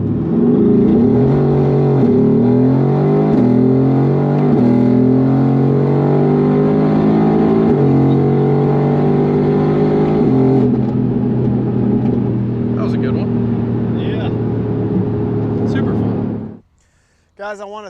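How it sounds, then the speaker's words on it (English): A Mercedes AMG GTR Pro, one of 185 in North America, accelerating hard on a country road from the cabin, its engine climbing loudly through several rising gear pulls before cutting off abruptly near the end. "this AMG GTR Pro. This is such a great car. I absolutely love the way it sounds"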